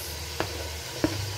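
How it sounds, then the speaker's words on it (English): Carrots and tomatoes tossed into onions frying in a pot for a simple Ugandan pilau give a steady low sizzle, broken by two sharp stirring clacks about half a second apart. "So we are adding our carrots and tomatoes to the onions"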